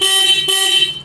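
Horn of a 2025 Hero Xpulse 210 motorcycle, one loud sustained electric honk with a brief dip midway, heard close and alone.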